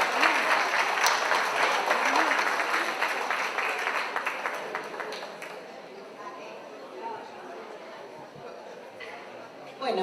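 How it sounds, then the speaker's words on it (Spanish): An audience at an education congress in Posadas claps enthusiastically for several seconds, loud and dense, then the applause fades away into quieter room noise with a voice speaking. "Fuerte los aplausos para ellos."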